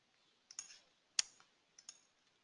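Computer mouse clicks while selecting a node in software, several faint, crisp ticks in small clusters against near silence.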